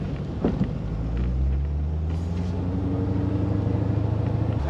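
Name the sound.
C4 Corvette driving off a ferry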